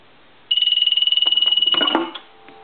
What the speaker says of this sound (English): I'm going to turn the ringer back on